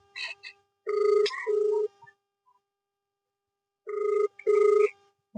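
An outgoing phone call rings on the line: two paired ringback bursts of a bright electronic tone, separated by a long silent gap, close and clear with nobody speaking.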